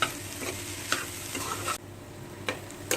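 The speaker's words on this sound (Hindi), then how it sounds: "अब हम इसे अच्छे से मिक्स कर लेते हैं।" Sautéed vegetables seasoned with black pepper powder are stirred in a hot pan for veg momos, giving a steady sizzle with scraping spoon strokes and a few louder clacks, and no voices.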